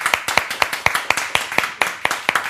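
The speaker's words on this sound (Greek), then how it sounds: "Θέλω λοιπόν ένα μεγάλο χειροκρότημα" Audience applause for a guest on a Greek television show: sparse, fairly close rhythmic clapping with about a dozen distinct sharp claps, no voices.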